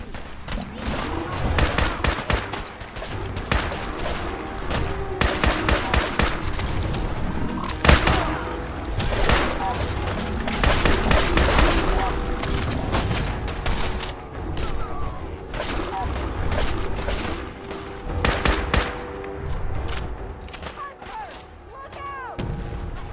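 Rapid, overlapping gunfire fills a battle in the Fallout 4 Far Harbor expansion, with repeated sharp shots and bursts over a constant loud rumble of combat and mechanical clatter, with occasional voices shouting in the mix.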